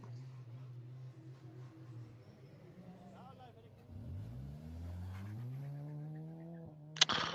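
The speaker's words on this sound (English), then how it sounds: "We are now watching Johan Van Drooyen driving in the Senna GTR, the newly launched car for R-Factor 2" A Senna GTR twin-turbo V8 racing car in the rFactor 2 sim is heard as a steady engine drone that climbs in pitch through the gears, then cuts off with a sharp burst near the end, with speech over it.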